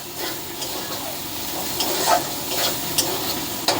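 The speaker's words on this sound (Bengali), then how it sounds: "একটু ভালো করে তেলে নেড়ে নেব।" Chicken curry being stirred in hot oil in a pan, a steady sizzle with scraping stirs and small louder bursts throughout, close and continuous with no talking.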